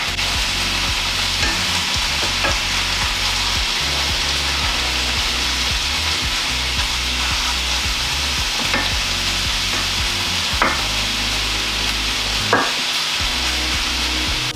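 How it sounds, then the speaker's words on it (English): A loud, steady sizzle of tofu and vegetables stir-frying in a hot pan, punctuated by occasional scrapes and clacks of stirring. "So everything's been frying for a few minutes,"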